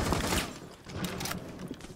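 Rapid bursts of gunfire fired through walls in the tactical shooter Rainbow Six Siege, a dense, loud volley of shots with mechanical clatter and thuds across about two seconds.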